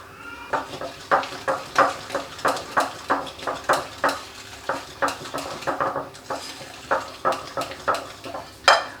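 Butter and sugar being creamed together in a bowl for a cake rusk batter, giving a steady rhythmic series of scraping, slapping strokes, close and fairly loud, with no talking.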